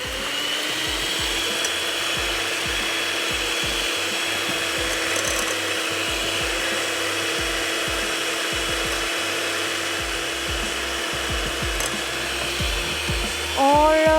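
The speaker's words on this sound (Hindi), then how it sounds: "अंडे को बीट कर लेते हैं, इसको करते हैं ऑन।" An electric beater whirs steadily while beating eggs for carrot cake icing, a continuous close motor drone with faint rhythmic ticking, running for the whole stretch.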